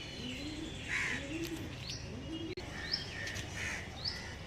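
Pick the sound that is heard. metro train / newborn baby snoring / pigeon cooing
pigeon cooing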